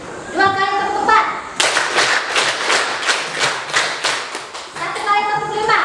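A classroom of children claps a rhythmic four-beat clap pattern in unison, loud and close, repeated twice with a brief pause, framed by voices talking before and after.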